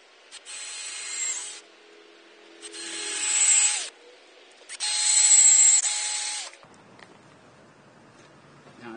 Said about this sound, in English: so as I can drill my next one